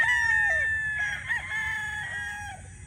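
Gamecock roosters on a game farm crow repeatedly, several overlapping calls near and farther off, over steady background noise.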